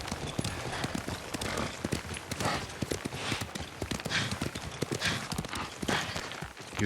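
Horse hooves clip-clopping in a steady walking rhythm, fairly close, with rustling movement and no talking, from the video game Ghost of Tsushima.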